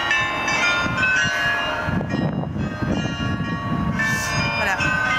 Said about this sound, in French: Ah, ça c'est le carillon.